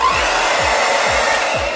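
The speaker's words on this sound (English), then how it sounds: "you take a blow dryer" A handheld blow dryer fitted with a guard dries hair that has been styled with gel, producing a loud, steady whooshing airflow at close range throughout.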